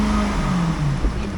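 A 2006 Cadillac XLR with 108,000 miles idles quietly, giving a brief, steady low engine hum with no voices.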